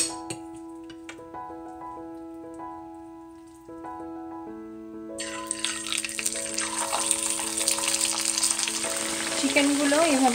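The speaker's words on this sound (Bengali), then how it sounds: "চিকেনগুলো এভাবে গোল্ডেন ব্রাউন করে ভেজে তুলে রাখতে হবে।" Chicken pieces frying in hot oil until golden brown. A loud, crackling sizzle rises and grows steadier over a quiet music bed, after a calmer opening with only faint kitchen sounds.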